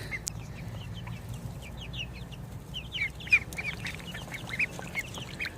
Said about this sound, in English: Ducks are so fun to watch, but my goodness,